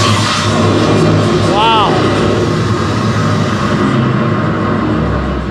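Fairbanks Morse diesel engine aboard the USS Silversides submarine rumbling loudly at idle in a steady, dense roar that fills the space, with a voice exclaiming over the noise.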